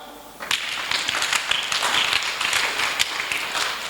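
A church congregation breaks into applause, a dense wash of many hands clapping that swells in and holds steady, loud and close.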